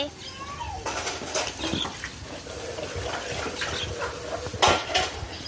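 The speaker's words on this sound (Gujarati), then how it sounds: "વાસણ ઘસે છે" Dishes being scrubbed and handled: pots and utensils clink and scrape intermittently against running water, with a voice faintly in the background.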